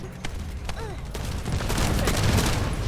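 Shotgun gunfire in the video game The First Descendant, with a rapid, dense string of blasts building into continuous combat noise, loud and close.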